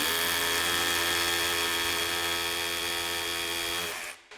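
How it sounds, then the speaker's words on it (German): A Bosch drill with the OneChuck universal chuck hammer-drills into a wall, a loud, steady buzzing whine with rapid percussive hammering held for about four seconds before it winds down abruptly. "wir bohren jetzt einfach mal kurz hier rein"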